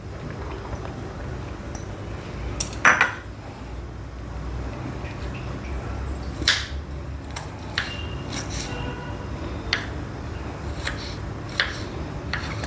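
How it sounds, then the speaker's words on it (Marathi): A knife chopping a peeled onion for the tempering of a dahi misal, with a few scattered cuts at irregular intervals, close and moderately loud over a steady low background hum. "आता आपण सर्वात प्रथम हा कांदा चिरून घेऊया"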